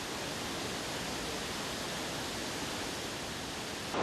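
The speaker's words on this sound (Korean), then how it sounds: "청량한 물소리를 내는 갈로바치키 폭포입니다." Steady broadband rush of Galovački waterfall in Croatia's lake park, water pouring continuously at a constant, fairly close level with no talk over it.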